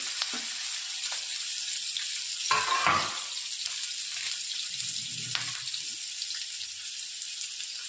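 Green chilies and ginger frying in a pan, a steady close sizzle of hot oil, broken by a few louder bursts of crackling and spattering and stirring scrapes, with no speech.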